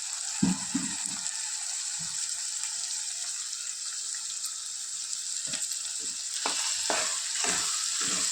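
Ivy gourd frying in a pan with a sprinkle of chili powder, a steady bright sizzle running throughout with occasional clicks and knocks of a spatula stirring, close up and continuous.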